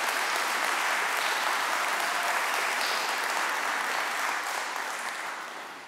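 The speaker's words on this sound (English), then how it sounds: "As we were applauding the good Lord Jesus" Audience at a Catholic talk applauds Jesus, with thick, even clapping from a large crowd that holds steady and then gradually tapers off.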